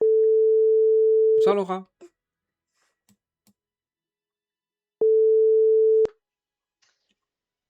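WhatsApp phone call tones, a steady electronic beep held for about a second and a half, cut off by a brief voice, then a second matching tone after a pause, in a quiet room.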